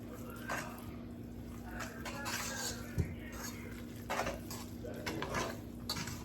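Brown sugar being stirred into food in a pot, with soft scraping and clinks of a utensil against the pot, quiet and close over a low background hum, no talking.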